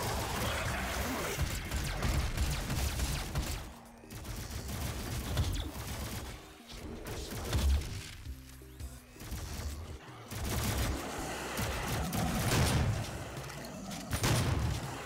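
Dense, continuous gunfire from the Doom video game, with overlapping shots and booming blasts running throughout at a steady loud level and only brief dips.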